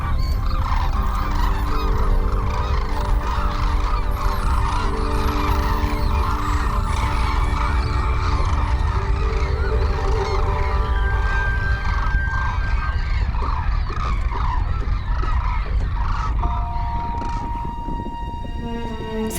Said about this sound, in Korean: 지난해에는 500여 마리 흑두루미가 순천만에서 겨울을 보냈습니다.